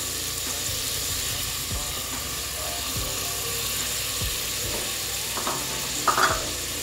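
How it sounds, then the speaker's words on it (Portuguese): Bell peppers hit a pan of onions sautéing in olive oil, giving a steady sizzle throughout with scraping and stirring clicks near the end, close and alone with no talk. "Eu já dei uma refogada, agora eu vou adicionar os pimentões"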